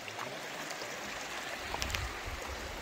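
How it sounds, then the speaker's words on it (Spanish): A creek streams steadily over stones outdoors, a continuous broadband wash of flowing water with a few brighter splashes near the middle, fairly close and with no voices. "Mira nomás qué chulada de arroyo."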